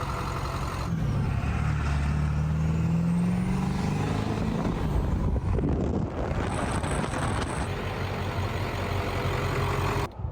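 King Cooper truck driving along with a loud, steady engine rumble and road noise, a rising gear whine early on and wind buffeting the microphone, no talk.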